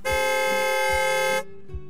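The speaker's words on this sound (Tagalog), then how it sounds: "Malakas na busina ng sasakyan ang sunod kong narinig." A car horn blares loudly and close in one long, steady honk lasting over a second, followed by a brief short toot.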